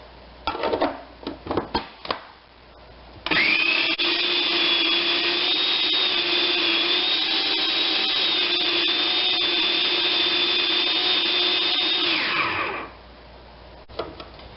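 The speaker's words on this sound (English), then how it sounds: "we're going to load those into a food processor, and we're going to reduce these down into a paste" Food processor whirring steadily as it purees rinsed leaves into a pesto paste, a loud continuous motor drone lasting about nine seconds after some brief kitchen clatter, then winding down.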